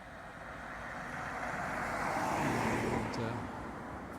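Cars moving through a roundabout at night, a broad steady road rumble that swells as vehicles come closer and then eases off, with faint voices murmuring underneath.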